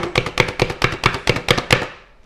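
A hand-pressed manual chopper cuts vegetables with about nine quick, sharp, evenly spaced chopping strikes, loud and close, before fading out.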